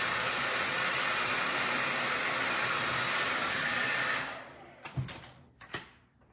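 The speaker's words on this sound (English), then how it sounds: "Gotta be careful with the blow dryer, you'll blow everything away." A hair dryer blows loudly and steadily for about four seconds, then shuts off, followed by a few soft knocks.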